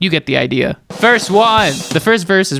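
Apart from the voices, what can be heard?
No distinct noise like a dog, phone or traffic.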